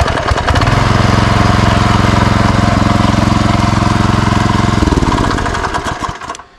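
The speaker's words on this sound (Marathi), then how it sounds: "मशीन चालू करताना आपण पहिलं बटन ऑन करतोय, त्यानंतर हे चोक आहे, हा चोक आपण देतोय, चोक देऊन किक मारतोय." An agricultural power weeder's engine catches after a kick start with the choke applied and runs loudly close by as a steady rapid chug for about five seconds before winding down and stopping.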